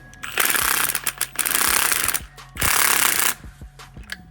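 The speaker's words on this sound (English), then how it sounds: "and then start torquing." Nuts on a 2016 Honda Civic lowering spring assembly being torqued with a hand ratchet, three loud bursts of rapid clicking ratcheting separated by short pauses and a few sharp metallic knocks, close up with no talk.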